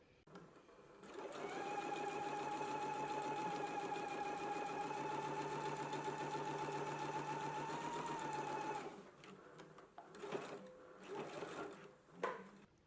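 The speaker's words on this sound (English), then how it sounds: "So I'm just going to stitch right here across." Sewing machine stitching across an apron pocket (Simplicity S9411 pattern), a steady, close motor hum with fast needle chatter running for about eight seconds before stopping, followed by quieter handling noises.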